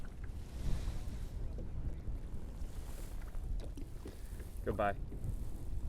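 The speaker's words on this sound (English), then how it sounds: "The wind picked up quite a bit, and it got a little cooler." Steady wind buffets the microphone out on the open water of Fellsmere Reservoir during kayak bass fishing, a constant low rumble with a brief spoken word partway through.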